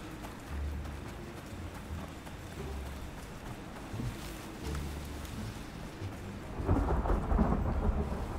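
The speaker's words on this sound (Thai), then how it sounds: "ฟ้าผ่าเดี๋ยวโดน" In the survival video game Icarus, rolling thunder rumbles at a distance under steady rain, with a sharper, louder lightning crack and boom near the end.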